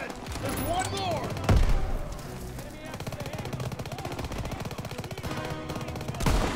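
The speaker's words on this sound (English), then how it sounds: "Everyone open fire!" Rapid machine-gun and rifle fire in the Call of Duty WWII video game, loud bursts and sharp bangs in fast rhythm with a heavier blast near the middle, mixed with shouting game voices.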